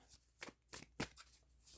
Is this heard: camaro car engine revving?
no